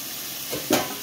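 Meat with spice paste frying in a pan: a soft, steady sizzle with a short louder clatter near the end.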